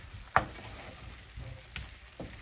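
Jamaican-style beef seasoned with all-purpose seasoning, black pepper, garlic and scotch bonnet cooks in a pot, giving a soft steady sizzle broken by a few louder stirring clatters.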